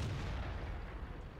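Artillery fire in the World of Tanks video game: a loud, sustained low boom that rolls on as a continuous heavy rumble, with no talk over it.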